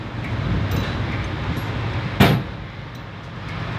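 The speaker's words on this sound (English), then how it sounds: "You hear that popping noise? That's the trailer legs being in a bind." A truck trailer's landing gear legs bind and let go with one sharp, loud pop. It rises briefly above a steady rumble of idling truck and outdoor noise.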